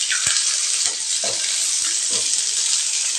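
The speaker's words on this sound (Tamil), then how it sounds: "இதையும் நல்லா வதக்கி எடுத்துக்கலாங்க. ஒரு பக்கம் வெந்துருச்சுங்க. அடுத்த பக்கம் திருப்பி விட்டுறலாம்." Tomatoes sautéed and flipped in a pan: a constant close sizzle broken by several distinct spatula scrapes and knocks as pieces are turned, fairly loud, without any talking.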